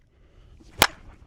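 A slowpitch softball bat strikes a ball with one sharp, loud crack that stands out cleanly against quiet surroundings.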